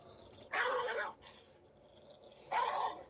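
Recorded dog sounds play from a phone app, two loud bursts of barking or growling roughly two seconds apart, separated by a quieter stretch with faint tones.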